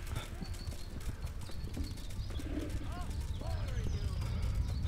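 Horse hooves clip-clopping steadily in the medieval game Kingdom Come: Deliverance, a close rhythmic trot of a frightened horse with a brief whinny, over low ambient noise and a speaking voice.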